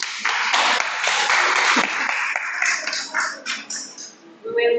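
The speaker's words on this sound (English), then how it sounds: "Give them another round of applause," Spectators at a college debate competition break into a dense burst of applause for the debaters, which thins out and fades after a couple of seconds as voices take over.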